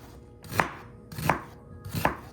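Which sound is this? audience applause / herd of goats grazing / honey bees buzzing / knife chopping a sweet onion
knife chopping a sweet onion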